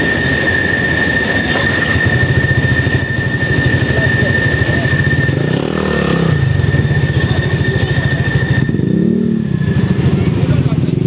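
A train pulls into a station in Manila, with a loud rhythmic clatter of wheels over rail joints, a steady high squeal and rumbling engine noise, and people talking nearby over it.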